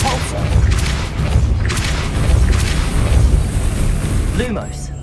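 Repulso spell impact in Hogwarts Legacy, loud booming thuds and blasts rolling over several seconds with crackling bursts, a brief voice-like sound near the end.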